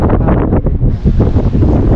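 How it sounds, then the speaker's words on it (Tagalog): Strong sea wind during a fishing outing off Mindoro, loud buffeting gusts roaring against the microphone with continuous rumbling and no voices. "Ito yung hangin galing."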